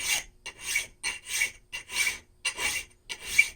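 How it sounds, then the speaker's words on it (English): A hand file strokes along steel in blacksmith work, making six rhythmic, close rasping passes with short pauses between them and no talking. "Align the file and use the full length of the file."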